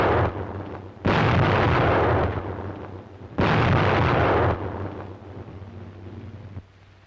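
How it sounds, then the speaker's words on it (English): Two heavy, loud grenade blasts during an infantry assault in a wartime training film, each a broad roaring burst lasting about a second, separated by a lower rumbling lull and fading to quieter background noise. "Grenades open up the charge."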